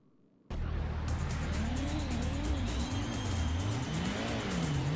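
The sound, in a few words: race cars starting in Gran Turismo PS1 video game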